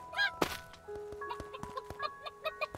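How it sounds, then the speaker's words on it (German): Chicken in the video game Craftopia, with short clucks and squawks repeating irregularly over a steady game background tone, plus a sharper thunk near the start. "Du gehst mir auf den Sack, Huhn."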